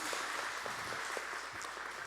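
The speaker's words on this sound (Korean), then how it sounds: "우리 하나님께 감사의 박수 올려드리겠습니다." Congregation clapping in a church during a revival service, a steady dense wash of hands filling the space, with a few voices calling out beneath it.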